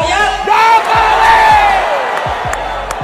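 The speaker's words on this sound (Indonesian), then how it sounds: "apa yang disampaikan oleh Pak Jokowi itu disambut dengan teriakan Jokowi" A large crowd at an Indonesian political rally roars and chants a leader's name in unison, loud rhythmic shouts rising and falling together over a dense, close crowd din.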